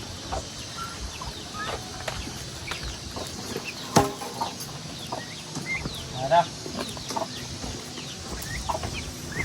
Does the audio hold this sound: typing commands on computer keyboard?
no